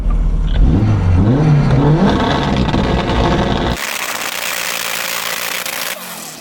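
The engine of a Porsche 918 Spyder hypercar revs close and loud, its pitch climbing and dipping through several blips before settling into a lower steady drone that fades slightly at the end.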